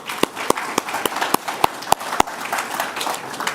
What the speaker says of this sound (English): we should give this man a big hand of applause